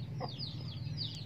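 An Aseel hen gives a few soft, close clucks in a brief, quiet burst with no one talking.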